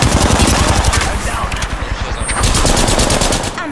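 Rapid video game gunfire rattles in sustained automatic bursts, loud and close, filling the whole stretch with dense repeated shots.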